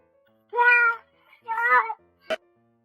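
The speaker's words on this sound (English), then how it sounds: "Stuck? The cat called its owner for help." A stuck cat gives two clear, drawn-out meows close by, followed by a short sharp sound, with quiet between them.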